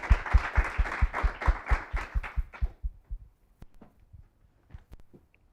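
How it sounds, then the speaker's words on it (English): A small audience at an AI workshop claps for a speaker, a loud burst of distinct rhythmic claps fading out after about three seconds into near silence with a few stray claps. "we can thank Cedric again with a round of applause."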